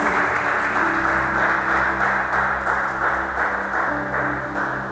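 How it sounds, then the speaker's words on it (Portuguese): A church congregation applauds steadily, a dense and loud wash of clapping held for several seconds with no pause, over a low sustained hum. "Vamos aplaudir o nome de Jesus?"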